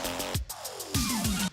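A short burst of a retrowave track plays dry, without master chain compression or saturation: dense synth layers with thumping kicks, bright hi-hat ticks and a falling synth tone, all continuous at moderate level.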